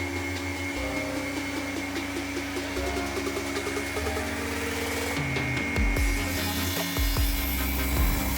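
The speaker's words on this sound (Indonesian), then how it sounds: "peralatan pertama yang digunakan adalah gergaji potong" Steady mechanical whine of a cross-cut saw running continuously through wood, with grinding cutting noise and occasional thumps as material is fed through.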